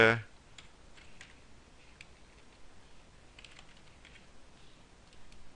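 Quiet typing on a computer keyboard, scattered light key clicks at an irregular pace, close and faint, after a brief burst of speech at the very start.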